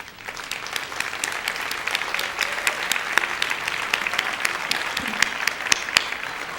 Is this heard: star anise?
no